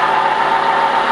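NASCAR stock car engine on a road course, running at a steady, loud drone with constant volume and no change in pitch, alone, with no voices.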